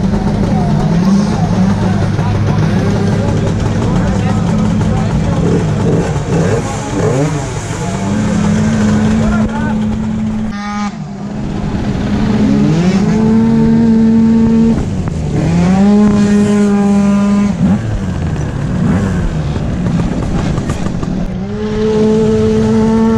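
Talaria electric bikes and cross scooters race together on a dirt track, a loud continuous engine and motor drone with rising and falling pitch sweeps as machines accelerate and pass, close by, with voices talking over it.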